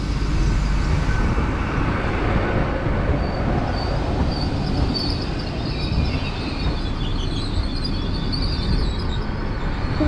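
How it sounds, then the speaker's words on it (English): A Great Western Railway class 802 train, unit 802-006, rolls into a station with a steady, loud rumble of wheels and a faint high squeal above it, continuous throughout with no talk. "now in comes the 1425 Great Western Railway service to Hereford"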